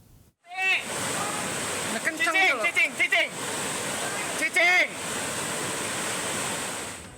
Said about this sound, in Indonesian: Kamera warga merekam terjangan arus deras melanda Kampung Cibayoni, Desa Kertajaya, Kecamatan Sumur, Pandeglang, Banten.